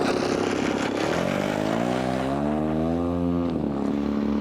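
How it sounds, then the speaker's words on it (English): An RC Harrier model airplane lands with a continuous loud propeller-motor drone whose pitch sweeps up and down as it eases in near the ground, heard close and alone. "So as we come in the Harrier, we come in nice and easy, get the plane flying a little bit as we get close to the ground"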